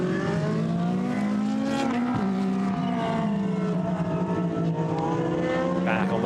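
A GT race car in a Blancpain GT Sports Club race at Paul Ricard accelerates under full power, its engine note climbing through the gears in a loud, continuous roar with other cars droning nearby.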